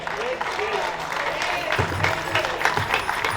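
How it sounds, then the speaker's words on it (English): A crowd at a Palestinian flag-raising in Paterson applauds after a speech, giving a dense, steady wash of clapping with voices mixed in underneath. "Give him another round of applause."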